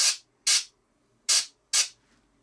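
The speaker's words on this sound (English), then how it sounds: "I'm going to spray some in the very top of that side and the very top of this side." Spray paint hisses onto a miniature sword in four short, sharp bursts, close and loud, with brief silences between each spray.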